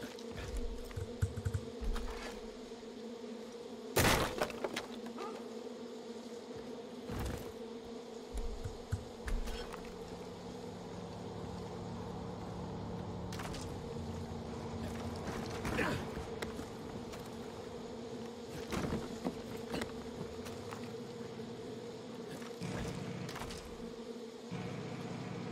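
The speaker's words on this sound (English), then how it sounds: "Bees everywhere." Bees swarm in the video game Far Cry 5, a steady droning buzz running throughout beneath clicks, creaks and game noises, with a person speaking over it at times.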